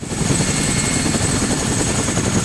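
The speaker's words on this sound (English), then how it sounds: "Let's see how this helicopter behaves." A helicopter in the Arma 3 video game lifts off with a steady, loud rotor thrum and turbine whine that hold without a break, with no talk over it.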